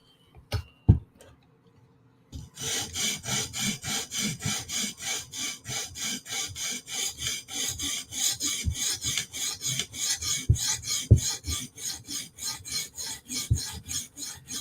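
A blade of hard S110V super steel is stroked across a sharpening stone in a fast, steady rhythm of raspy grinding passes, close and clear, after a few brief taps and a short pause while the knife is flipped to remove the burr.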